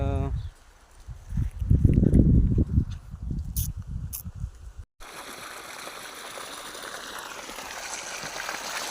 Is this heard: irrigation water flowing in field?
yes